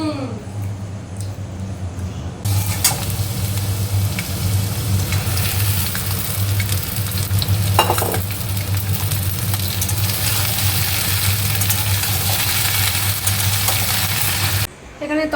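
Curry sizzles steadily in a hot pan in a home kitchen, the frying hiss rising to a loud, continuous level after a couple of seconds with occasional scraping from stirring and a low hum beneath, and no talking.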